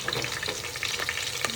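Mustard seeds, curry leaves and garlic go into hot oil for a tempering for dal amti, giving a brief, busy crackling sizzle close by with light spattering pops.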